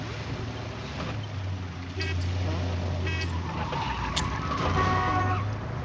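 A car horn gives a couple of short honks over the low hum of an engine and passing traffic on the road.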